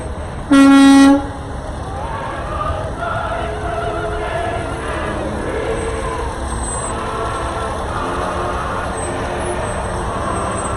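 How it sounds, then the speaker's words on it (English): A city electrical department bucket truck rolling in a Veterans Day parade in Garden City, Kansas gives one loud, sustained honk of its horn near the start, then traffic rumble and crowd ambience continue. "Coming up right now is the City of Garden City Electrical Department in their big bucket truck."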